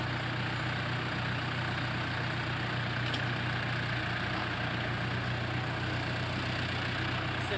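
A tractor engine at a 1993 agricultural expo tractor pull, a steady, moderately distant diesel drone that holds an even level throughout with no talk.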